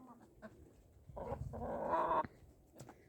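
Backyard hens on a frosty farm give a few short clucks, then a louder, sustained run of squawking calls for about a second before they fall quiet.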